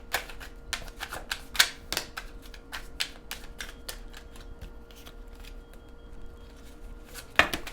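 Oracle cards being shuffled in a tarot-style reading, giving a run of quick, crisp card flicks and riffles at an uneven rhythm, close up with no talking.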